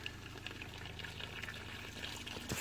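Cold faucet in a camper running water mixed with pink antifreeze during winterization, a low steady gurgling flow with faint sputters and a small clunk at the end.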